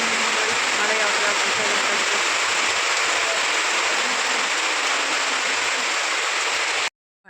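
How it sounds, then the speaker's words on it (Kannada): Heavy rain pours at night in a dense, loud, unbroken wash that holds steady for about seven seconds before cutting off abruptly. "ಎಷ್ಟು ಗಟ್ಟಿಯಾಗಿ ಮಳೆ ಬರ್ತಾ ಇದೆ"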